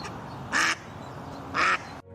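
A nervous mother duck quacks twice, each call a short harsh burst about a second apart, close by over a quiet outdoor background.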